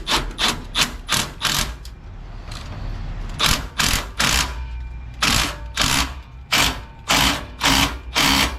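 A hand tool tightening a donut clamp on an aftermarket Speed Engineering exhaust header, rapid bursts of close metallic ratcheting clicks in repeated runs separated by brief pauses.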